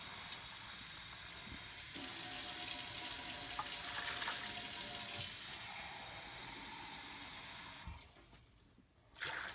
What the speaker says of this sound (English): We're going to put in 3 cups of warm water.